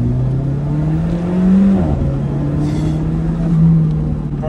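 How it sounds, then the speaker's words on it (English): An Alfa Romeo 4C turbo engine pulling while driving on the road, a steady loud drone with a rising pitch and faint turbo whoosh, no voices. "you can hear that turbo twirl"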